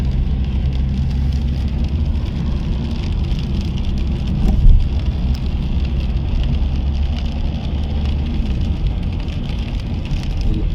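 Rain falling in Oujda, Morocco, a steady dense hiss and rumble heard from a moving car, continuous and loud throughout with a faint low engine drone beneath and no talk.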